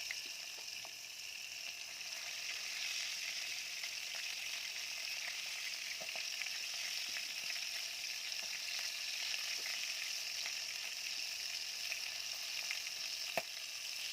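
Chicken fries in a pan with a steady, soft sizzle that runs without a break, with only a few faint clicks now and then.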